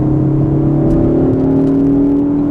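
A Ford Focus ST's engine hums and whirs loudly from inside the cabin in third gear, its tone rising slowly as it picks up speed.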